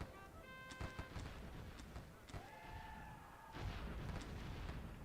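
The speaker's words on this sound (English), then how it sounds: "the Rebs have a lot of artillery over there" Artillery fire in the Sid Meier's Gettysburg strategy game, a few distant muffled booms and cracks spread across the clip beneath faint game sounds and tones.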